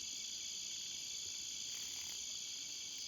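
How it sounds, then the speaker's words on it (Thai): A green cicada calls at night in a rural field area, a steady, shrill high-pitched buzz holding constant throughout with faint background night noise and no voices. "จักจั่นสีเขียว"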